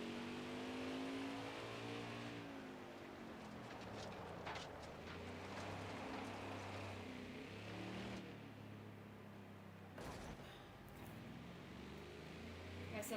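Damaged race car engine in the NASCAR Heat 5 racing game, a steady droning roar with shifting harmonic pitch as it accelerates and revs, loud and continuous, with a brief sharp break near the end.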